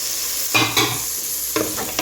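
Sliced carrot rounds frying with onion in a pot for Tlemcen-style harira soup: a constant close sizzle broken by a few quick scraping stirs, no talk.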